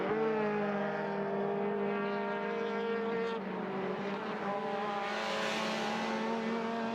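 Saloon cars racing on a circuit, bouncing over the kerbs and running wide, their engines a loud, steady harmonic drone that shifts in pitch midway as revs change, with no talk over it.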